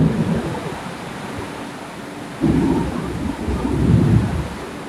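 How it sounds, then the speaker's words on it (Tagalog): Thunder rolls during a nighttime storm, two deep rumbling swells over a steady wash of rain, with no voices. "May bagyo nga talaga."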